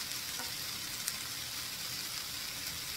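Two tablespoons of Kikkoman soy sauce hit a hot frying pan while vegetable spring rolls cook, making a steady, quiet hiss with a few faint crackles.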